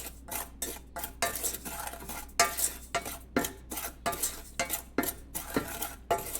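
A spoon stirs melting sugar in a pan for rasgulla syrup, with quick repeated scraping and clinking strokes at a brisk, uneven rhythm. A faint sizzle sits underneath, and no one speaks.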